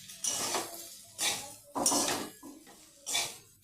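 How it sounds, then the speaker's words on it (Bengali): Potatoes and beans stirred with a spatula in a pan, four distinct scraping and clinking strokes at an even pace, close and fairly quiet, no voices. "আমি আবারও খুন্তি দিয়ে ভালোভাবে নেড়ে চেড়ে নিচ্ছি।"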